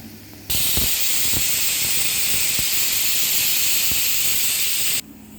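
A pressure cooker whistles as it releases steam in a home kitchen, making a loud, steady hiss that starts abruptly and holds for about four and a half seconds before cutting off, with faint clicks underneath.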